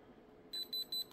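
A handheld tester beeps three times while probing a white area of a suspected carbonaceous chondrite lunar meteorite sample, found at Odori beach and weighing 1.5 kg, with a short, clear high-pitched tone in each beep and a quiet pause before them.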